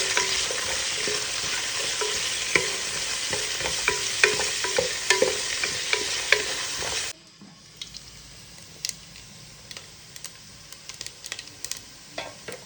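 Onions sautéing in a pan for pickle, with a loud hiss and repeated spatula scrapes and taps, then a sudden drop to a quieter, crackling simmer with sparse clicks.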